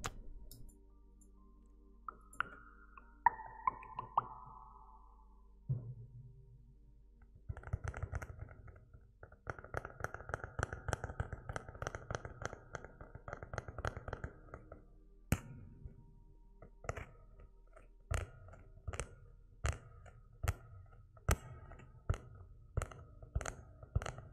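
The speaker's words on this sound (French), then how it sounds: "on va tenter un petit effet réverbération pour ce sticky finger" Close, sticky-finger tapping and clicking sounds with an added reverb effect giving a roomy tail, in irregular bursts, then sparser single taps toward the end.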